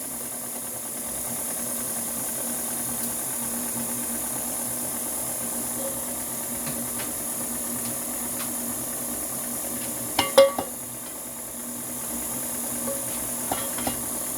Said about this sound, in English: you want your mixer moving when you're putting these this butter in